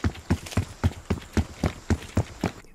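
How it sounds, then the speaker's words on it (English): Rapid player footsteps from a tactical sprint in a video game, a steady run of about eleven sharp, thudding steps at an even quick rhythm, loud and close with no talking over them. "This is just the default footstep audio."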